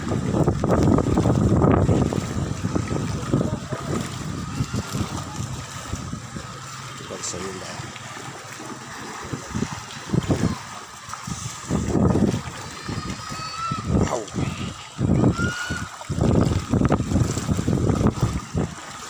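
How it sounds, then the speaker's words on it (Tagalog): Strong wind buffets the microphone in loud, rough gusts in a flooded area, with people talking intermittently and a low engine hum underneath. "lakas pa ng hangin"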